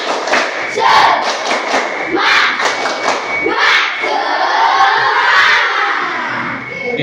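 Classroom of children doing a rhythmic clapping cheer, claps in quick bursts mixed with loud group shouting and chanting, fairly close and energetic.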